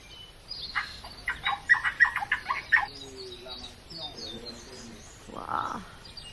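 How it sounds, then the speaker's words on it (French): Wild birds calling in Colombian nature, a burst of rapid chattering calls followed by softer scattered chirps and a brief rougher call, moderately distant over quiet background. "on part du coup un petit peu dans la nature pour voir les oiseaux"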